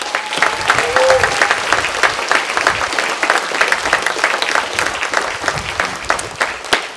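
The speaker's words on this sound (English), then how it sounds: "let's give him a big round of applause." An audience at a hall of fame event applauds a coach, with loud, sustained clapping that has scattered sharp individual claps and a few voices mixed in.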